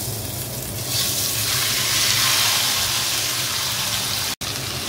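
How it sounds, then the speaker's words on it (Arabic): Chicken breasts seasoned with Cajun spice fry in a pan of very hot oil and ghee, giving a steady close sizzle and hiss that swells slightly, with a brief gap near the end. "وهنوزع الفراخ في الطاسة من غير ما نقلبها"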